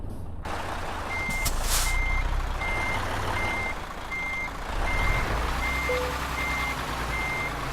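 A truck backing a trailer in a trucking video game gives a steady run of evenly spaced reversing beeps over a low engine rumble.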